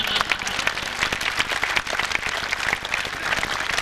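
Sustained audience applause at a Mahamoorkh Sammelan comedy poetry gathering, dense clapping filling the whole stretch at steady loudness with no speech over it.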